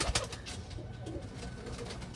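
Fancy crested pigeons with heavily feathered feet coo softly in a loft, a low continuous murmur of several birds at a quiet level.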